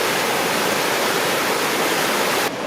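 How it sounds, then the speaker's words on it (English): River rapids on a rainy hike toward Hogs Back Falls in Ottawa, a loud, continuous broadband rush of churning water filling the whole clip, with no talk. "Rapids."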